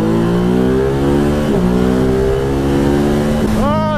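A 2020 Ducati Hypermotard 950 SP motorcycle engine runs hard and loud, its steady tone shifting through gear changes and climbing into a sharp rising rev near the end, with a rider's voice partly under the engine noise.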